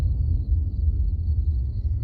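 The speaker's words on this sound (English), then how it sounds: "Sounds like a nasty plane" A deep, steady low rumble fills the whole stretch, like a distant airplane droning overhead, with no voices.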